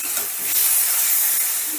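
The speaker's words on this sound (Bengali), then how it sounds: "এবারে সমস্তটা বেশ ভালো করে কষে নেব, যতক্ষণ না টমেটোটা নরম হয়ে যাচ্ছে" Spice paste and tomato sautéing in a pan makes a dense, loud, hissing sizzle that swells slightly midway and stays steady throughout, with no voices over it.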